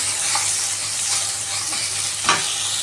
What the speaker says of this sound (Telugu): ఇప్పుడు ఇది మంచిగా ఫ్రై అవుతుందని